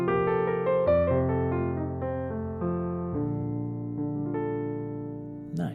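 Jazz piano playing a scale upward and an arpeggio back down before settling on a resolving chord, clear stepwise single notes over sustained bass tones, moderately loud and with no talk.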